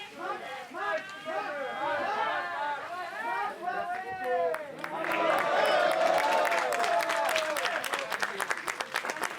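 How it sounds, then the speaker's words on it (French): Applause greets Matt Damon and Camille Cottin at the Cannes 2021 Stillwater photocall, where many voices call out and overlap before sharper clapping builds and continues steadily through the second half. "Qui sortent sous les applaudissements."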